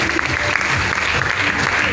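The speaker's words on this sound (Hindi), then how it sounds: "एक जोरदार क्लैपिंग सर के लिए" An audience at an RCM business seminar in Gohana claps loudly and steadily for about two seconds, while a voice speaks over the applause.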